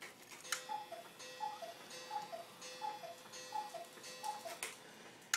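A cuckoo clock ticks steadily and faintly in a quiet room, a regular even tick-tock repeating about twice per second with no voices.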